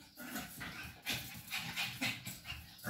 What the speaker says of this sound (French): Le chien est en crise.